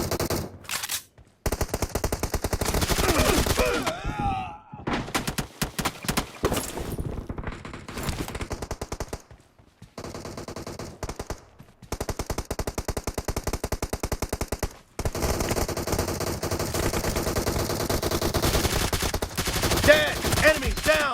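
M416 and Scar-L assault rifles firing in a mobile shooter game, long rapid bursts of automatic gunfire that stop and restart repeatedly, loud and close, with brief game voice callouts mixed in.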